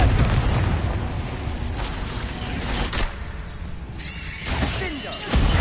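A Confringo spell in the video game Hogwarts Legacy explodes in loud, rolling blasts. Bursts of fiery rumble come one after another with short crackling tails.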